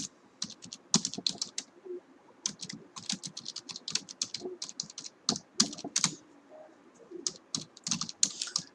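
Steady typing on a computer keyboard while a SQL query is entered, with quick runs of close, crisp key clicks broken by short pauses and no voice.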